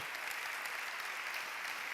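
A church congregation claps during a sermon, a soft, even wash of many hands heard faintly and at a distance, without pauses, for about two seconds.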